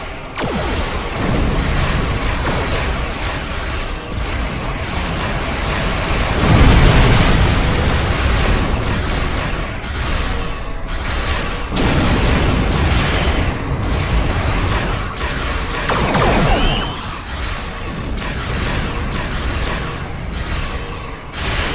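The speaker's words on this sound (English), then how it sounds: "I need to give him a torpedo real quick." Torpedo blasts and heavy combat noise from a space battle video game roar continuously and loudly, with booming impacts and rumbling bursts layered over a dense, sustained wash of effects.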